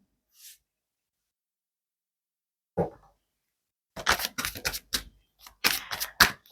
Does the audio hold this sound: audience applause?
no